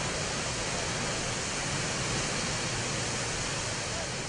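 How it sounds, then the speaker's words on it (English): Water of the La Fortuna waterfall in Costa Rica roars as a dense, steady broadband rush, loud and unbroken throughout. "My destination was the La Fortuna waterfall."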